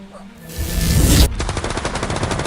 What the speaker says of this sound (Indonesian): Dia menembak para musuhnya dengan gagah.